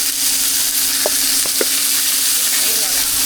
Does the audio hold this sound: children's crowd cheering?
no